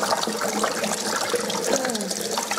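Cold tap water runs steadily over a steam-burned arm, a continuous close splashing rush with no voices.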